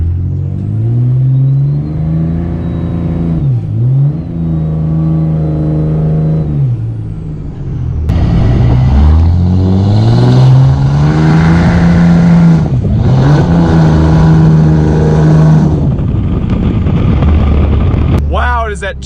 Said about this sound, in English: That thing was doing a rolling burnout